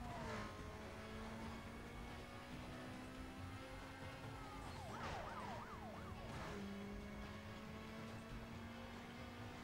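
In Need for Speed Most Wanted, a police siren wails and warbles over steady car engine noise during a street race.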